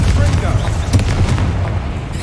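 A Confringo blasting spell goes off in Hogwarts Legacy as a heavy, rumbling boom with a sharp burst near the start, then a long decaying roar. Game voices speak over it.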